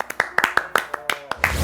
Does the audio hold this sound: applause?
yes